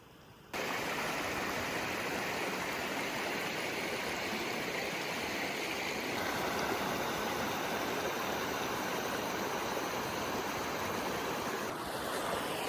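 A mountain stream in the Caucasus of Georgia rushes steadily, a dense broadband wash of flowing water heard close and loud with no voices, starting abruptly after a brief silent moment.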